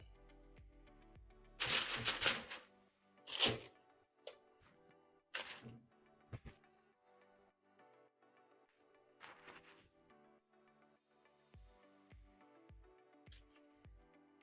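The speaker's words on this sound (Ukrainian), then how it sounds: "Зараз я їх буду панірувати і відправляти на деко, яке я вже застелила папіром для випічки." Meatballs being rolled in breading and set down on a baking tray lined with parchment paper, heard as scattered soft rustles, taps and paper crinkles, quiet and close with pauses between.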